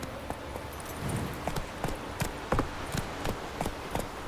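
Horse hooves in The Witcher 3: Wild Hunt, a steady run of close clip-clop beats over soft ambient background, with no voices.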